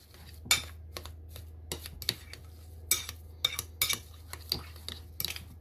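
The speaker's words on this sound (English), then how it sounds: "I'm going to mix that all up and then put it onto a tray." A utensil scrapes and clinks against a bowl while cauliflower pizza base dough is mixed with egg, pepper and salt, giving irregular sharp taps and scrapes, close and clear, with no talking.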